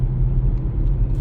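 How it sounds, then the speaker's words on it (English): A 2019 Chevy Equinox engine running while driving, a steady low rumble of engine and road noise heard from inside the car for just over a second, with no talking. "I am driving Katie's 2019 Chevy Equinox, and it has the auto start-stop feature"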